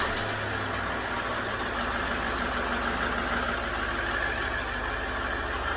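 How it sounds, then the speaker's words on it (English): A Range Rover L405 with the 4.4L TDV8 diesel idles steadily up close, a low even rumble with a faint high whine riding over it, no voices. "But the engine is running, so it must not be important."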